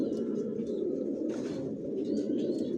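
Racing pigeons coo in a loft with a low, continuous throaty burble that sits close and steady. Faint higher chirps and a brief soft rustle of wings come through over it.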